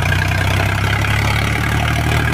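Eicher 551 tractor engine running at a steady idle, a close, loud low diesel throb with a regular pulsing rhythm and no talk over it.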